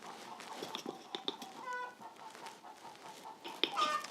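Backyard chickens cluck and squawk nearby in short irregular calls, a couple of higher squawks standing out, with quiet rustling in the background.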